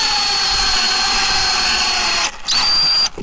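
A power drill whines steadily at high pitch, close and loud, drilling holes in KTM 300 motorcycle tires for grip studs, briefly stopping and spinning back up near the end before cutting off.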